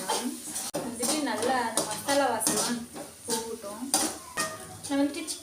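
Chicken curry is mixed in a cooking pot, with busy scraping and clinking of a spoon against metal over a light sizzle. A person talks throughout.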